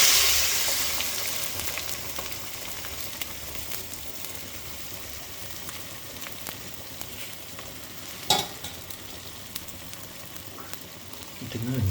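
Beaten, salted egg sizzling and frying with masala in a pan, a steady close crackle and hiss with stirring scrapes and one louder clatter, no talk.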